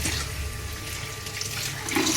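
Steady running tap water while chopped greens for a saag are rinsed in a home kitchen, a constant wash of splashing at moderate level with no talk.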